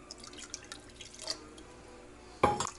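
Water poured into a pot of competition-style chili, a soft trickle and drip followed by a brief louder splash near the end, fairly quiet and with no talking.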